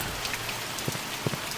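Steady rain hiss from the video game The Mortuary Assistant, with a few soft drip-like taps scattered through, fairly quiet and continuous, no voices.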